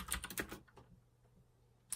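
Several quick keystrokes on a computer keyboard in the first half-second while a command is typed at a terminal, close and crisp, followed by a quiet pause and one more tap at the end.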